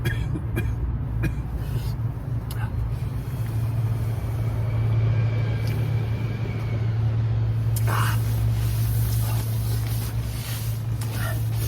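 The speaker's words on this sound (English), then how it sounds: "Loads of traffic out there" Steady low rumble of road traffic passing outside near a viaduct, a continuous broadband drone with a strong low hum, moderately loud and unbroken throughout.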